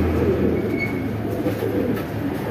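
Pigeons cooing in cage number 93 at a pigeon market, a low steady murmur of coos blending with continuous background bustle, no voices.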